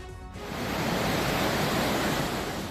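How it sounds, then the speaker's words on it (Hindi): Rushing floodwater roars through a swollen river after heavy rain in the hills of Rajouri, Jammu and Kashmir, a loud, steady broadband wash of water that swells up after a brief opening and holds without a break. "पहाड़ों से आ रहे पानी की तेज धार ने नदियों को फान पर ला दिया।"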